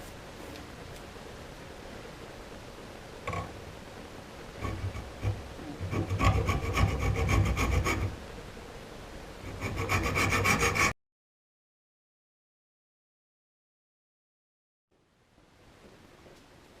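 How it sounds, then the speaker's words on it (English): A hacksaw cuts through a guitar tremolo block in steady back-and-forth rasping strokes, close and loud, with brief pauses before the sawing stops and near silence follows. "So the good old hacksaw."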